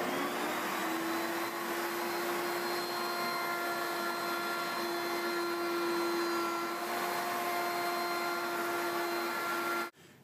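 A router fitted with a 1/4 inch round-over bit shapes the edge of a wooden coffee table or bench top, giving a loud, steady high-pitched motor whine that holds for about ten seconds before cutting off abruptly.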